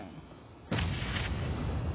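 A video game grenade explosion: a sudden loud blast cuts in and continues as a heavy, sustained rumble filling the rest of the clip.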